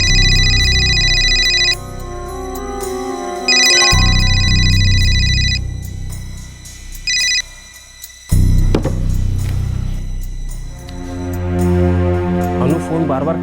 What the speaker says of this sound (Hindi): अनु फोन बार बार कट कर रही है।